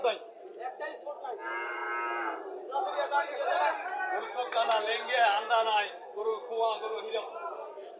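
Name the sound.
calf mooing at cattle market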